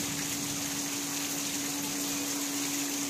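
Water pours steadily for hand washing outdoors as heavy rain falls, a loud, continuous rushing gush with a low hum underneath and no talking.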